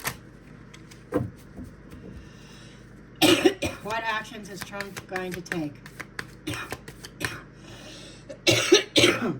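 Someone speaks, then breaks into a couple of harsh coughing fits, close to the microphone, with quiet clicks in between.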